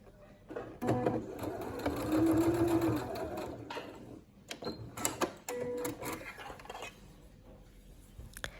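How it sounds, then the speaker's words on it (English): A sewing machine runs basting stitches to fasten a bow loop to a leggings cuff, in short bursts of fast whirring and mechanical clatter separated by pauses and handling noises, close and fairly quiet. "I'm basting the bow loop to the cuff, so I'm using a temporary stitch to fasten the bow loop to the cuff."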